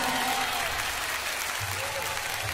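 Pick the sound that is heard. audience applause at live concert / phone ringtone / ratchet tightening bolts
audience applause at live concert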